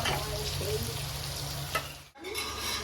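Potatoes fry in a pan in a home kitchen during Kojagori Lakshmi Puja cooking, giving a loud, close sizzle with scraping stirs. One sharp clatter is followed by a brief dip, then the frying resumes.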